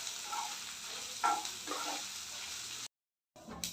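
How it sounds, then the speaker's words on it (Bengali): Ginger frying in a pan for khichuri gives a steady, close hiss of sizzling oil with a few soft stirring scrapes, then cuts to silence briefly before the sizzle returns. "আদাটা দিয়ে দেব। লাল করে ভেজে নেব এটাকে।"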